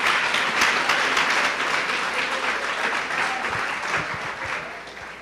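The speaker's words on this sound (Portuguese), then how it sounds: "Dê uma salva de palmas ao Senhor." A church congregation at a Sunday service claps in praise, a broad roar of applause that slowly thins and fades over several seconds, with a few distinct claps near the end.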